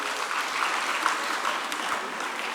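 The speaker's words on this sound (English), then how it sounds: "Please, let's clap for the video." An audience claps steadily at a university annual public lecture on TVET transformation in Africa, a dense, even wash of hands with no break for the whole stretch.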